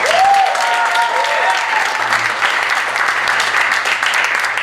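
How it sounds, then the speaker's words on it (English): Applause from a comedy club audience for the night's comedians, a dense sustained clatter of many hands filling the room, steady and fairly loud throughout with a brief tonal whistle or cheer near the start. "give them a round of applause"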